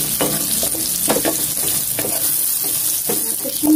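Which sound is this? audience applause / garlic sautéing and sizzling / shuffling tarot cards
garlic sautéing and sizzling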